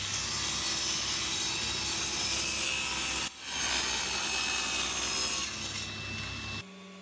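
Wood pieces for picture frame mitres being ripped down with a saw, a continuous dense whine and rasp that briefly dips mid-cut and then stops abruptly.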